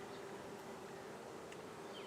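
Honey bees hum steadily around an open hive during a late-afternoon summer inspection, a dense, continuous buzz close by with no talking and only a few faint higher chirps now and then.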